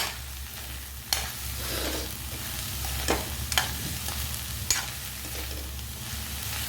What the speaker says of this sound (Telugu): కొంచెం మీడియం ఫ్లేమ్లోనే వేయించుకోవాలి